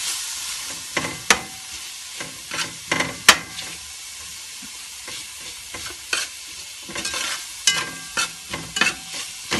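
Tomatoes and tomato paste fry in a pan under a steady sizzle and hiss, while a utensil stirs with sharp, irregular scraping taps, close and clear with no voices.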